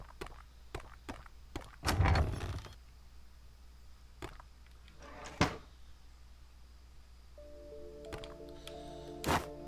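A door is set down as a makeshift bridge in the cyberpunk ghost-story game Sense, with scattered quiet wooden knocks and clunks, one heavier scraping thud, and a faint tonal game sound at the end.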